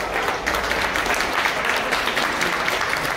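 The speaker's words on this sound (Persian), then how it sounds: "دو نفر بعدی کسرا عباسی حامد مسعود تشویقشون کنید" An audience at a Rubik's cube competition in Iran applauds steadily, with dense, continuous clapping from a crowd in an indoor hall that stays loud and even throughout.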